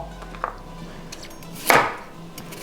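A single sharp knife strike chopping carrots on a board, fairly close, with a couple of faint taps around it in a quiet room.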